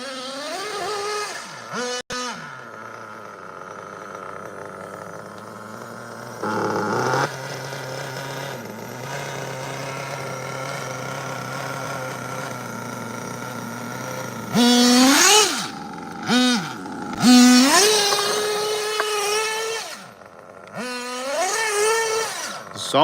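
Nitro RC touring car engine, an Associated TC3 from around 2004, idling steadily and then blipping through several sharp revs, close and fairly loud with brief quiet gaps between bursts.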